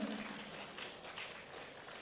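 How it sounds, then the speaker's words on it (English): Faint, distant applause from a conference audience at a polytechnic event, a soft continuous patter of clapping heard over room ambience. "So please giving applause for Politeknik Negeri Jember."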